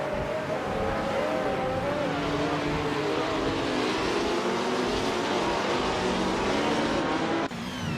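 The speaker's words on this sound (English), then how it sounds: "Mist 149 is driving a McLaren M5A" McLaren M5A race car engine in a racing video game, a loud, constant high-revving drone with shifting pitch that holds steady for several seconds before a brief dip near the end.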